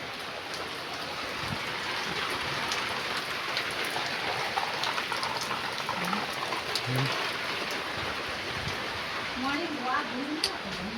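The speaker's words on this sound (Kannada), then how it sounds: "ಇನ್ನೂ ಮಳೆ ಬರ್ತದೆ ಈಗ" Steady rain pours down, a dense continuous hiss and patter on surfaces, with faint voices murmuring now and then in the background.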